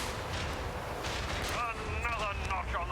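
Heavy macro cannon fire booms in Warhammer 40,000: Rogue Trader, deep rumbling blasts under a noisy backdrop, with faint electronic tones rising near the end.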